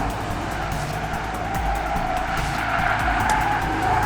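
A car fitted with Eibach springs driven hard on a track, its tires squealing in a sustained skid over a steady engine drone, loud and close throughout.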